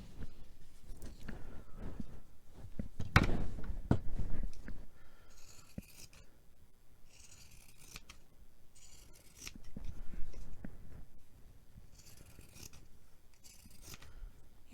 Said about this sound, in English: A regular scissors will do.